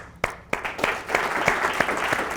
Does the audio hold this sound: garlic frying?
no